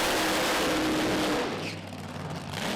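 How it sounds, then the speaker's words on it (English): A Pro Mod drag racing car at a British Drag Racing Championship round does a burnout, with a loud, sustained engine roar and tyre noise that eases and thins after about a second and a half, then swells again. "Andy with a bit of a skew whiff burnout"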